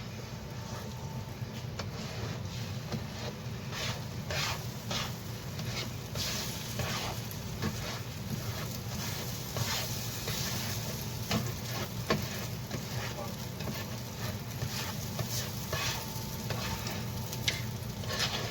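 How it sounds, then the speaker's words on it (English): Eggs seasoned with salt and pepper are scrambled in a hot pan, giving a steady close sizzle with scraping stirs and soft patter that runs unbroken the whole time, with no talking. "And now I'm just going to scramble them."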